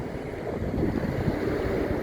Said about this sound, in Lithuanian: Čia biški vėjota.